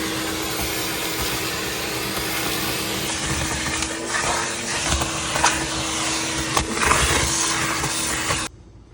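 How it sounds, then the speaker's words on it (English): A vacuum cleaner drones steadily at close range, its pitch and loudness shifting slightly as it moves, then cuts off abruptly near the end. "Okay, vacuum."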